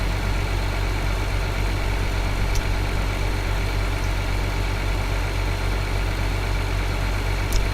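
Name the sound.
vehicle engine driving in the video game Farming Simulator 2013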